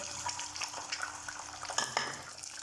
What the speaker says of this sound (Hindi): अंडा डालकर इसको ऐसे फ्राई करना है।